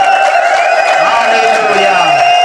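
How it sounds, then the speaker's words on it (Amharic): A church congregation gives a loud burst of sustained, high-pitched ululation with a crowd roar and clapping beneath it, close and continuous. "እንደገና ለኢየሱስ እልልታ ጭብጨባ ጨምራለሁ"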